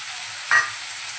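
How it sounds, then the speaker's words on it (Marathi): Finely chopped tomatoes hit hot oil and Malvani masala in a pan for a bitter gourd (karela) bhaji, giving a short, sharp sizzle burst over a steady background frying hiss. "आता लगेच आपण जे टोमॅटो आपण बारीक चिरून घेतले होते ते घालून घेऊया"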